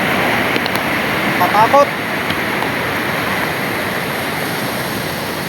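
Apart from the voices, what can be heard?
swollen river rushing after overnight rain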